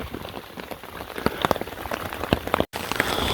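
Heavy rain pours onto a bush tent shelter, a dense, steady patter of drops on the fabric with scattered louder splats, close and continuous throughout, with no voices.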